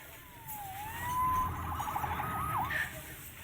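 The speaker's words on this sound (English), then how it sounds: "Saved by the siren." A police siren wails in the Marvel's Spider-Man video game on PS4, its tone rising and sweeping in clear wavering cycles over a low rumbling city background, sounding moderately close.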